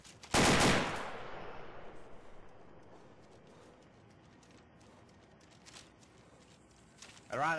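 An M4 rifle fires in a single loud, fast burst near the start of the clip, recorded in the DayZ video game, and then the sound fades into a low, rumbling ambience punctuated by faint, scattered knocks and movement noises.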